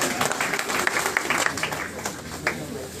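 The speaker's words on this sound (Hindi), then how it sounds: "तो एक बार मुख्यमंत्री के लिए भी जोरदार तालियां" A crowd at a community gathering claps for the chief minister, a loud sustained wash of applause with scattered sharper claps and voices mixed in.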